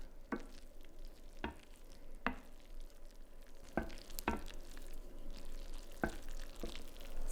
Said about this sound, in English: Now remove from the oven and give it a stir